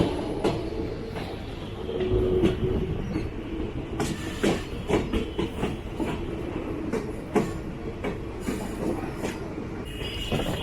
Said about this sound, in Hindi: अब ट्रेन अपने राइट टाइम पर लखनऊ सिटी से निकल चुकी है।